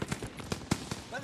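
Rapid bursts of gunfire in the World War II shooter Call of Duty: WWII crackle in an uneven rhythm, several sharp shots over about a second, with faint talk under them.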